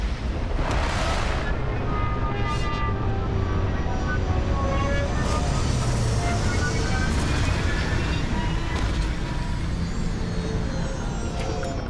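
A spaceship in Starfield sets down in bad weather with a loud, steady roar of engine thrust and rumble, rising whooshes and thumps during the descent.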